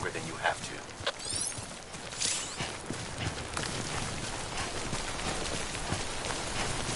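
Steady rainfall (timefall) in the video game Death Stranding, a dense continuous hiss of drops on surfaces with faint hoof-like patter mixed in, holding at an even level throughout.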